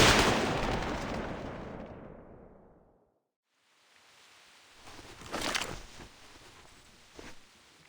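Firing-squad gunfire in the video game Reverse 1999 opens with a loud booming volley that decays into a long rumbling tail, then silence, followed by fainter scattered reports.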